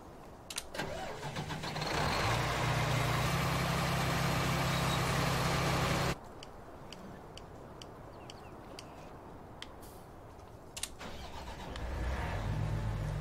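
Combine harvester in the Farming Simulator 19 video game, its engine cranking into life and running at a steady rumble, then cutting out abruptly before a second start begins near the end.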